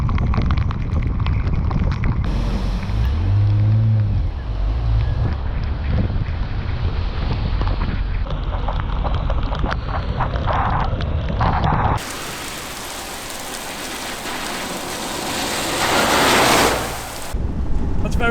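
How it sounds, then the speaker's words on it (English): Torrential rain during a thunderstorm, hissing and roaring close to the microphone, with floodwater pouring out of blocked street drain covers and running off the curb, all under a heavy wash of wind noise. "Absolute torrential rain today."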